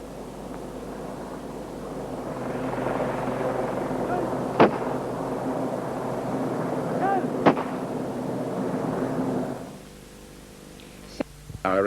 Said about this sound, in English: The security forces watched from a distance as a volley of shots was fired at the graveside.